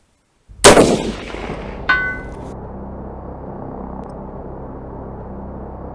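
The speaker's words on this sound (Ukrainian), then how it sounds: "Е, ми зробили кілька пострілів" A single sharp rifle shot cracks loudly nearby, followed by a second report and a rolling echo that fades into the open air.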